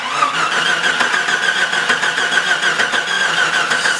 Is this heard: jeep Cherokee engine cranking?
yes